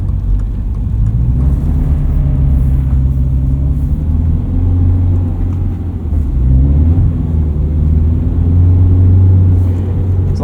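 A lifted 2022 Subaru BRZ on Falken Winterpeak winter tyres pulls away in second gear on snow with traction control on. A loud, steady low engine rumble is heard from inside the cabin, swelling gently as it drives.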